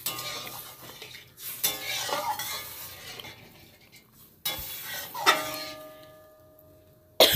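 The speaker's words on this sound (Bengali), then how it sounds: "এবার এক এক করে মাছগুলো আমি দিয়ে দিচ্ছি।" Fish pieces dropped one by one into a pot of boiling curry with potatoes, giving splashing clatters and utensil knocks over a low simmer, with sharper bursts near the middle and end.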